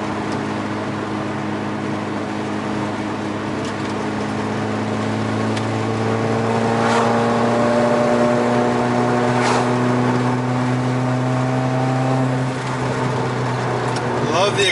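A four-cylinder Volkswagen MK4 GTI exhaust drones steadily up close, its tone climbing gradually as the engine accelerates, with faint talk beneath it.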